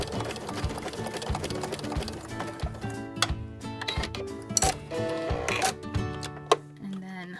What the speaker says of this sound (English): Using a zigzag stitch, you're just going to sew straight across.